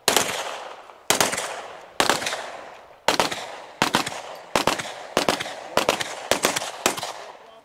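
Gunfire at an outdoor gun range: loud, close bursts of rapid shots, some single and some in quick strings, each trailing off in a ringing echo, repeated about a dozen times with short pauses between and no talking.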